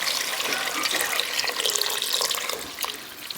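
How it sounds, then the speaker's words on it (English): Tap water runs steadily into a cooking pot for red beans, a continuous splashing stream of moderate volume heard alone. "I'm going to put in 4 cups of water"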